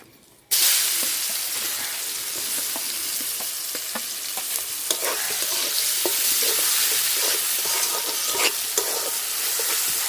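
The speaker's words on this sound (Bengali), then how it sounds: "পেঁয়াজটা লাল লাল করে ভাজিয়ে নিছি" Chopped onion fries with bay leaves in hot oil, a loud continuous sizzle that starts abruptly, with frequent crackles and the scrape of stirring throughout and no talking.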